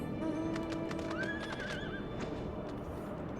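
A unicorn mount in Final Fantasy XIV gives a clear, rising and falling whinny, accompanied by a steady patter of hoofbeats over continuous background game ambience.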